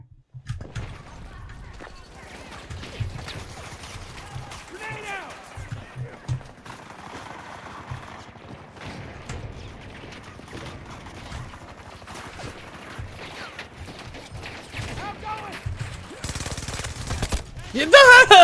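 Rapid gunfire bursts from Battlefield 2042 on a console match, crackling in quick volleys alongside game effects and chatter, growing louder and denser toward the end.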